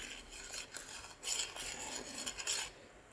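A spoon scraping and stirring thickening pecan candy in a pot on the stove, soft rasping strokes repeating in an uneven rhythm, quiet and close with no talking.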